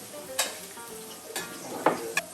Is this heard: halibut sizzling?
yes